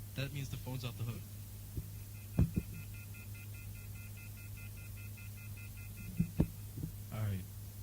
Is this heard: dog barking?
no